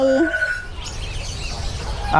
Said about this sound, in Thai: ชุดนี้ก็จะเป็นลูกไก่ดำอินโดนะครับผมไก่ดำอินโดแท้ๆเลยครับ